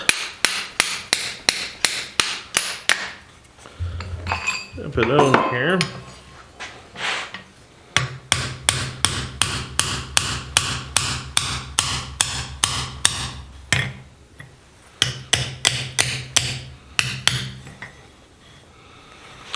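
Steady rapid hammer blows ring out close by in long runs, sharp metallic knocks as a handle is driven onto a blacksmith's set hammer forged from a jackhammer bit, broken by brief pauses and a few spoken words.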